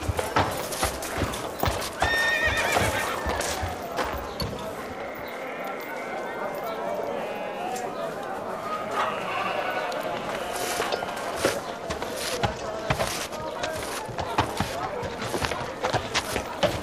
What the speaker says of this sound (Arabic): هذا حصان عربي جميل وغال أيضا.